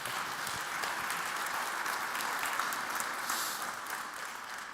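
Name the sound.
applause for a speaker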